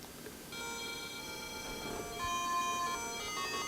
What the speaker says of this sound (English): So that beeping must be just for the clock.